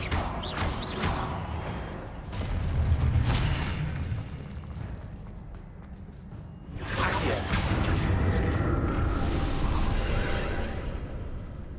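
Spellcasting combat in Hogwarts Legacy, with Confringo blasts booming out over a dense game soundscape, including several deep thuds and whooshing bursts in two main waves.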